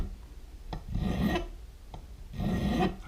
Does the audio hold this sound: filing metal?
yes